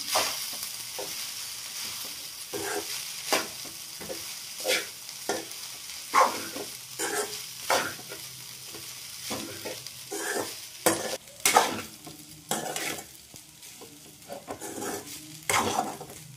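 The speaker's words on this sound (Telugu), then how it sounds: "ఇప్పుడు ఈ రైస్ అంతా ఇలా కలుపుకుందాం" Rice is stirred and tossed in a frying pan while making Andhra-style aavakaya fried rice, with a spoon scraping and clinking against the pan in irregular strokes over a continuous soft sizzle.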